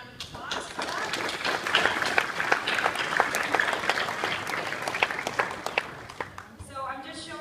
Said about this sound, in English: we want to give him a round of applause for that.